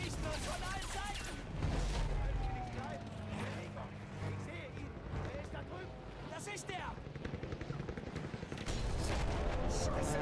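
Gunfire rattles almost nonstop in the video game Battlefield 1 during a zeppelin attack mission, with dense overlapping volleys and battle noise over voices.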